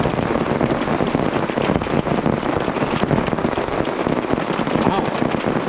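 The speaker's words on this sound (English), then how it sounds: "This is a pretty heavy rain." Heavy rainstorm pounding on and around a Jeep during an overlanding trip, a dense, steady roar of drops striking the ground and metal surfaces, loud and unbroken throughout.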